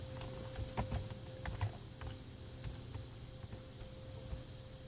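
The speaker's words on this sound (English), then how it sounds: "I'm going to type in De Maria" A place name being typed on a computer keyboard: light, irregular key clicks in short bursts, fairly faint over a steady electronic hum.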